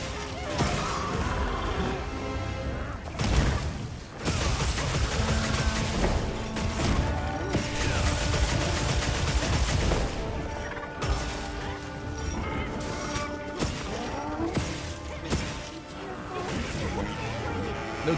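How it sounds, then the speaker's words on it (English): Loud explosive impacts from an exploding gunlance slamming into a monster in Monster Hunter Wilds, repeated heavy crashes and booms over busy game sounds, with a voice talking throughout. "I've been just pummeling in the face with a big old lance that explodes."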